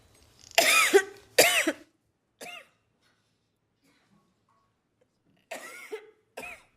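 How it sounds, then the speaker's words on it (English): Several harsh coughs, two strong close bursts followed by smaller ones after a pause, with no talking. "I'm just about to cough again."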